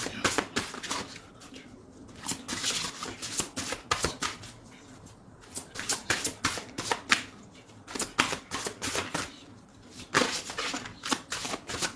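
Oracle cards are shuffled by hand in repeated crisp riffling bursts with short pauses between them, close and clear for several seconds.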